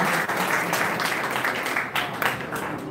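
A crowd applauding a municipal candidate at the opening of a campaign office in Santo Domingo Oeste, a continuous wash of clapping that sounds fairly close and full, with faint voices mixed in.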